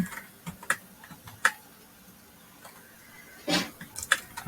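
Computer keyboard typing a line of code in an editor, a run of separate light clicks in loose, uneven bursts, close and fairly quiet with no voices.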